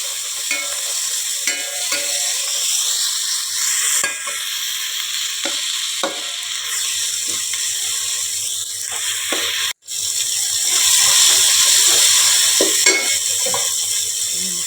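Curry leaves fry in hot oil in a pan for a chicken dum biryani, a continuous bright sizzle with soft stirring scrapes and a sudden crackle flare near the end.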